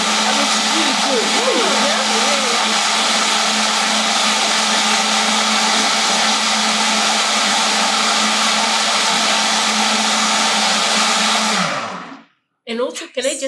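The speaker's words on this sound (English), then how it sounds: "investing in a good blender is so helpful because this blender" A kitchen blender whirs loudly and continuously for about twelve seconds in a high, steady roar, then winds down and cuts off, followed by a few brief faint sounds.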